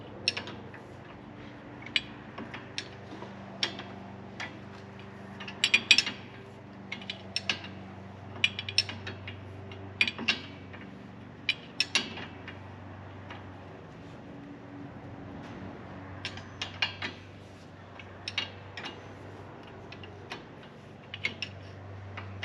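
A hand ratchet clicks in quick, irregular bursts while driveline bolts are tightened, sharp metallic ticks with pauses between strokes over a low steady hum, close by and with no talking.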